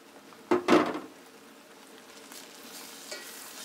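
Beef being stirred with ginger, garlic and cumin paste in a pot, a couple of loud wet scraping stirs at the start, then a faint low simmering sizzle, no talking.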